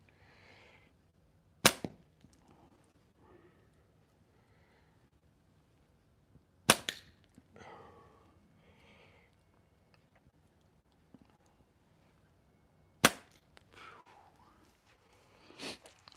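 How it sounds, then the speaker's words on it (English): A slingshot fires clay balls outdoors: three sharp, isolated snaps spaced several seconds apart, close and loud against a quiet background with faint rustling and soft voices between shots. "the thing I'm shooting the projectiles with is this slingshot here. What I am shooting is clay."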